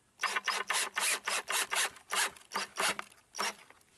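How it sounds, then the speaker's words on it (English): A power drill drives a screw into wood for a raised garden bed without a pilot hole, run in short pulses: about a dozen evenly spaced, close, raspy bursts with brief gaps between them. "because I haven't pre-drilled the hole, I'm just going to go nice and slow, just pulsing it."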